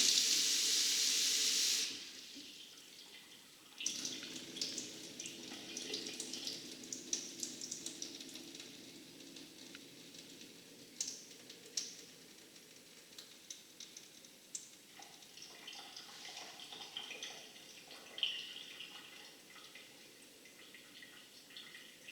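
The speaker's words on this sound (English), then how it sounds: "So we're just going to give that another rinse." A kitchen tap runs into a sink in a loud, hissing gush for a couple of seconds, then gives way to softer splashing and trickling as something is rinsed, with no voices.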